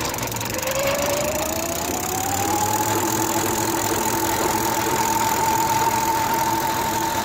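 Bicycle booster motor spinning a piece of wood on a test rig, running unloaded with a steady whine that rises in pitch then holds, alongside a constant rough mechanical rumble, close and loud with no talk.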